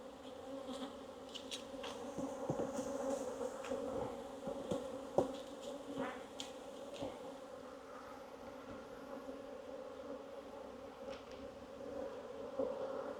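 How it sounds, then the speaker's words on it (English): Very dark honey bees swarm a double brood box hive with a steady, dense buzz that drones on throughout, with occasional louder passes of single bees near the listener and faint taps. "Lots of bees."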